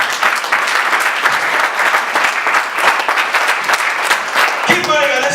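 A church congregation applauds during a French-language worship service, a loud, dense wash of clapping that runs steadily throughout, with a brief tonal sound near the end.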